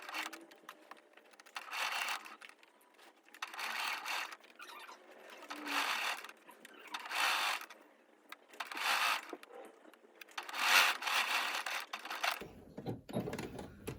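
A sewing machine stitching a blouse runs in short, separate bursts of rapid whirring, roughly one every second or two, with quiet pauses between the runs and a soft rustle of fabric at the end.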